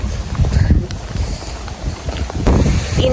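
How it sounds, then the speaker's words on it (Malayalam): Strong, gusty wind buffets the microphone outdoors on a hiking trail near the Grotto at Tobermory, Ontario, a steady low roar that swells and eases across the whole stretch, with no talking. "ഇന്നലത്തെക്കാളും കാറ്റും ചെറിയ തണുപ്പും ഉണ്ട്"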